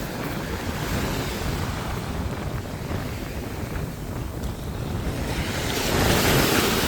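Ocean surf at a beach in St. Croix, a continuous wash of breaking waves mixed with wind rumble, swelling louder near the end, with no voices.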